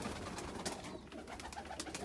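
Oman pigeons coo softly amid a busy, noisy loft background, the calls faint and blurred together across a couple of seconds with no clear speech.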